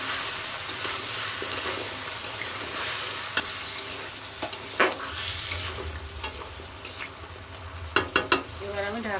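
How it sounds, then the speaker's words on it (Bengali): Kohlrabi and pumpkin are poured into a pan of sautéed spice paste and start to sizzle. A continuous hiss runs under irregular scraping and clattering from stirring, with several sharper knocks toward the end. "মশলা কষানো হয়ে গেছে, এবার আমি সবজিটা ঢেলে দেবো।"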